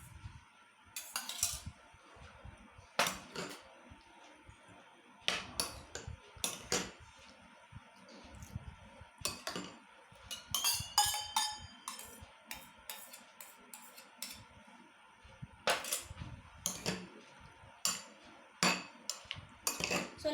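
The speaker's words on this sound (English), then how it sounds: "So let's mix it properly." Vegetable curd salad stirred in a bowl with a utensil, giving repeated sharp clinks and taps of metal against the bowl in irregular bursts, close and fairly clear.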